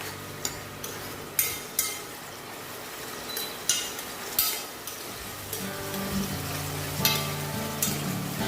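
Tomatoes cook in a pan for dhaba-style dal makhani, a soft steady sizzle punctuated by sharp spoon-on-pan clinks and stirring taps at irregular intervals.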